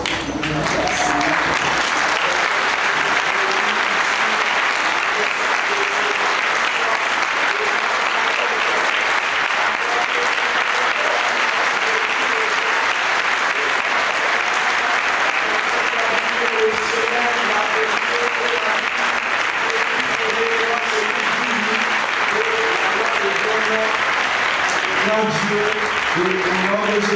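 A church congregation at a mission blessings seminar in Tanghin-Barrage, Burkina Faso, applauds steadily and loudly for the full stretch, a dense wash of clapping with voices and cheers mixed through it.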